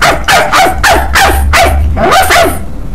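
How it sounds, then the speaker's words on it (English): A dog barks in a rapid run of about seven sharp, loud, close yips and barks, with brief gaps between them and no talk over them. "don't bark like that."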